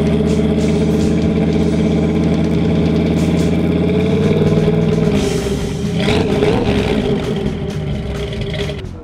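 Big-block 454 V8 in a street rod at a car show, running with a deep, loud, steady idle close by, then a couple of rough revs and clattering as it settles.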